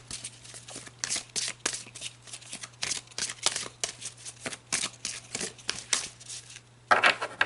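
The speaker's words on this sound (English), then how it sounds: "Now let's pull some cards to clarify these and dig into the emotional body" Playing cards shuffled for a card reading, a steady run of quick papery riffles and snaps close by, with a louder burst of shuffling near the end.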